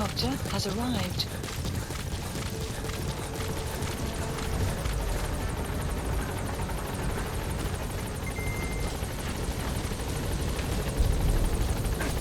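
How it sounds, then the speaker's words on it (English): Loud, continuous support helicopter rotor thumping and engine roar in Metal Gear Solid V fills the scene, with synthetic game-like effects and speech mixed in. "Support helicopter has arrived."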